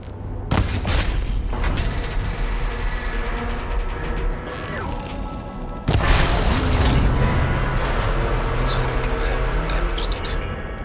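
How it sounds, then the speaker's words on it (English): Shots and metallic impacts as a machine arm's coupling is targeted in Horizon Forbidden West: sharp bangs near 0.5 s and 6 s, each followed by clanking, ratcheting machine noise over a constant loud rumble of game sound. "Maybe I can shoot the coupling on the arm."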